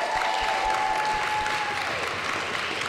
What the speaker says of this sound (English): So a huge round of applause for Josh.